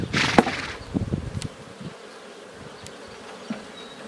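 Honey bees buzz from an open hive during an inspection, a close, dense swarm hum that swells loudly at first, then thins to a softer steady drone with occasional passing buzzes.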